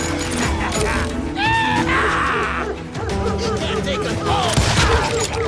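Gunfire in the Western shooter Call of Juarez: Gunslinger, loud bursts of shots mixed with game shouts and voices, chaotic and continuous.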